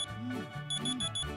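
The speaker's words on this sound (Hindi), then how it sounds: "तो मेरा अलार्म दोबारा बजा" An alarm clock ringing with a repeating electronic melody of rising and falling tones and bright beeps, heard clearly and fairly close with no talk.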